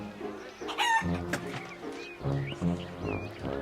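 Chickens cluck and a rooster crows in the Wallace and Gromit's Grand Adventures video game, with several loud, close calls scattered across a busy game soundscape and underlying music.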